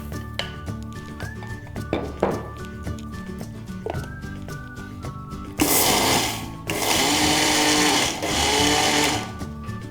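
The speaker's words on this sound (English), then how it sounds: "Our sesame seeds have cooled down now and we will blend this to a fine powder." A blender grinds cooled sesame seeds into powder in loud whirring bursts that start after scattered clinks and handling clatter, stopping briefly and resuming at a steady roar.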